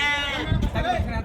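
A young ram bleats close by at the Amingad sheep and goat market in Karnataka, one drawn-out wavering cry.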